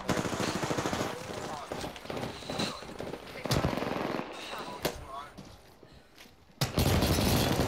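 Rapid bursts of video game gunfire from a Peacekeeper shotgun and other weapons in an Apex Legends–style battle royale fight, loud sharp shots scattered through the clip with a heavy burst at the end, while players talk over it.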